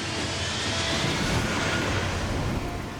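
An airplane coming in to land in a crosswind, a steady, loud, broadband engine roar with rushing air that holds level throughout with no breaks.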